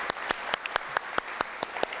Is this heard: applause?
yes